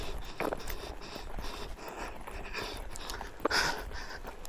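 A dog pants in quick, rhythmic breaths while climbing about on a bed, fairly close, with a few faint rustles and a brief whimper-like sound mixed in.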